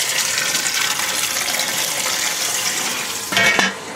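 Liquid gushes steadily from a pump through a cooling coil into a fermenter on a home brew day, a loud close rushing splash with a brief surge near the end.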